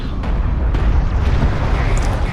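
Siege cruisers firing in the real-time strategy game Deserts of Kharak, heard as a dense, continuous rumble of heavy booming blasts packed closely together, loud and sustained throughout.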